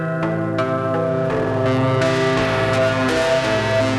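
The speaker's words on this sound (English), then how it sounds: "But we're actually getting this really kind of like crunchy, overdriven sound" Mutable Instruments Rings plucks driven hard through a Beads texture synthesizer, a dense, crunchy, overdriven wash of ringing tones with sharp attacks, loud and continuous without talk.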